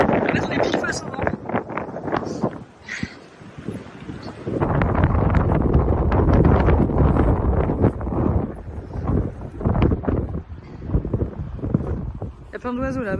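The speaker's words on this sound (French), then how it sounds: "Le vent en face de nous qui pousse le sable." Strong headwind on an exposed Icelandic sandy stretch roars and buffets loudly against the microphone in surging gusts, pushing sand along. People talk over it in places.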